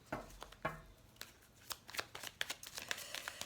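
Oracle cards shuffled by hand during a reading: quick papery riffles and soft slaps in an uneven run, close but quiet, with no talking.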